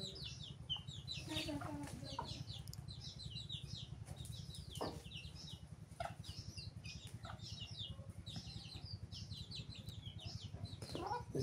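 Chickens cluck in short scattered bursts around a rural household yard, alongside a steady low hum and occasional wing flaps.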